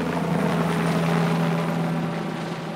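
A helicopter flying during Mexican wolf capture operations in Arizona, a steady droning rotor and engine hum, continuous and moderately loud with no talk.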